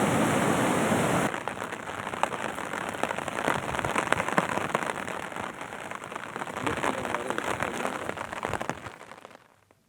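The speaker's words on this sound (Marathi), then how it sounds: "मराठवाड्यातल्या परभणी जिल्ह्यातही मुसळधार पाऊस झालाय" Heavy monsoon rain pours down in Marathwada as a dense, continuous patter of drops on surfaces, loud and close, with sharper spattering hits throughout before it fades out at the end.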